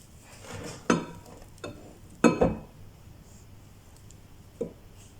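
Eggless crêpe batter with milk is mixed by hand in a bowl: a few scattered scraping and knocking strokes from the utensil, close and moderately loud, spaced apart over quiet, with no speech.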